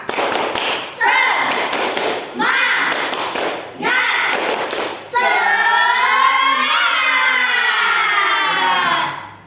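Schoolchildren in a classroom do a rhythmic spirit clap, four loud bursts of clapping and thumping in a steady pattern, followed by a long sustained group voice chant rising and falling.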